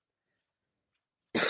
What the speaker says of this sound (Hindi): अभी भी देख सकते हैं कि मुझे उसकी वजह से खांसी भी आ रही है।